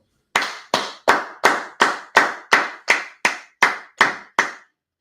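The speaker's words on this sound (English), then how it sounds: "Clap it up." A class claps in unison, twelve sharp even beats in a steady rhythm, loud and close with no voices, then stops.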